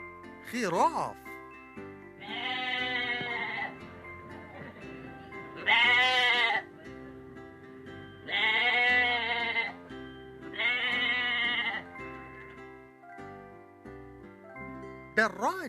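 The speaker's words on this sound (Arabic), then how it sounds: "خراف." A sheep bleats four times in loud, close, drawn-out cries spaced a few seconds apart, with brief voice-like sounds at the start and end.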